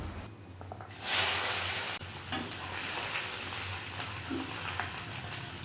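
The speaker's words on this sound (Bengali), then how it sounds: "তেলের মধ্যে সামান্য চিনি চিনিটা লাল হয়ে গেলে গোটা গরম মশলা তেজপাতা আর সাদা জিরে দিয়ে দিব কুচানো রসুন" Whole garam masala, bay leaf, cumin seeds and chopped garlic going into hot oil with a little browned sugar for a homestyle chicken curry, giving a steady broadband sizzle that swells sharply as they hit the pan, then settles into constant frying.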